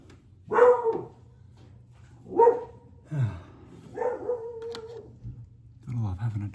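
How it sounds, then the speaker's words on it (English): A dog barks and yelps in several separate bursts with pauses between, fairly close, with a low steady hum underneath. "Gotta love having a dog, barking at everything."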